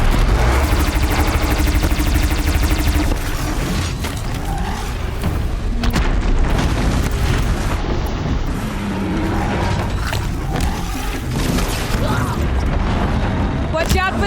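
Disc launcher explosions from the video game Horizon Zero Dawn, a dense run of booming blasts and mechanical clatter that fills the whole stretch, loud and continuous, with a voice speaking over the game noise.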